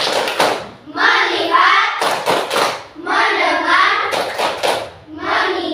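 Children in an Indonesian classroom perform a rhythmic focus-clapping chant, sharp unison claps alternating with chanted group phrases, close, loud and repeated in a steady pattern.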